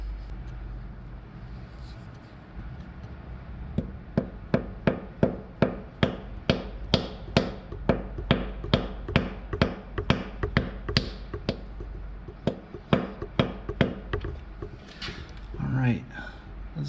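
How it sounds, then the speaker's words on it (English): A dead blow hammer taps a shifter mechanism sleeve down into its bore, a steady run of roughly two dozen sharp, evenly spaced knocks, close and clear, with a few scattered handling noises near the end. "I'm just going to bop it with my dead blow hammer to seat it in that bore."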